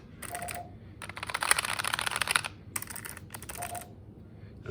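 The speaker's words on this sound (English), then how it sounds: "You can hear it click. It feels a lot different than a normal mechanical keyboard though." Clicky typing on a mechanical keyboard, compared against models like the Razer Huntsman and K70: close, rapid key clicks in quick bursts with brief pauses between them, no voices.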